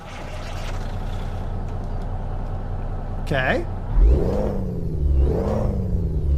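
A Peterbilt 379 with a Cat engine in the Euro Truck Simulator 2 video game cranks and fires up midway, settling into a loud, rumbling idle with a couple of rising revs. A short spoken word comes just before the start.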